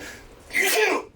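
A single sharp sneeze bursts out close by, brief and loud, after a moment of quiet background.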